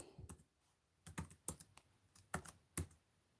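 Computer keyboard typing a command, a few separate bursts of crisp close key clicks with short pauses between, quiet room and no talking.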